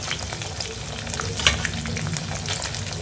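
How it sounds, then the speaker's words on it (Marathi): Cooked poha with curry leaves is stirred and sautéed in a hot pan: a continuous close sizzle and crackle with spoon scrapes and occasional louder pops, no voices. "हे आता सर्व आहे ना चांगलं परतवून घेतेय मी"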